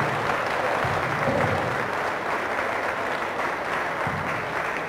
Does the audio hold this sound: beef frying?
no